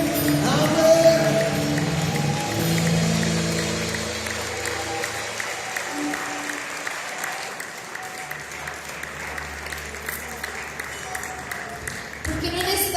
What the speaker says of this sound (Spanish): Dale la bienvenida al Rey con un fuerte aplauso.